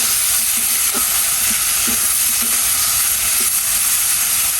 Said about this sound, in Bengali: এবার এখানে বেগুন কাটা আছে, বেগুন কাটা দিয়ে দেবো। বেগুন ভাজি